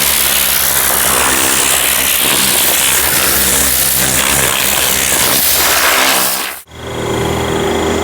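A compressed-air blower hisses loudly and steadily as it blasts mold and fibers off car seats, then cuts out briefly before resuming.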